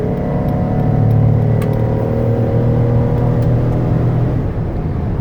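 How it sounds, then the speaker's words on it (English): A 2005 Chrysler Town & Country wheelchair mobility van with 84k miles revs steadily under throttle, its engine drone holding loud and close for several seconds with a slight dip as the transmission shifts. "I'm going to give it some gas so you can hear the engine run, you can hear the transmission shift"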